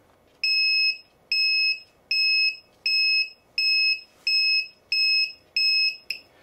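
A shrill low-battery voltage alarm on a KK2 flight controller beeps repeatedly, about eight evenly spaced tones in quick succession, loud and close, with no voices.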